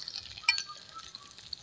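Cumin seeds, dried red chilies and chopped garlic frying in a pan for a Bangladeshi bata fish bhuna, giving a soft, steady sizzle with a brief stir or clink near the middle. No one speaks.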